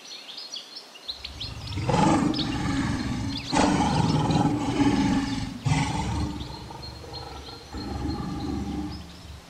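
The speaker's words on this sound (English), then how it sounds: "The lion is a mammal of the feline family." A wild lion roars in repeated deep, rough bursts, loud and close, with bird calls chirping faintly behind it.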